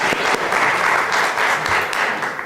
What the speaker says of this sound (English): So let's give a quick round of applause to Michael.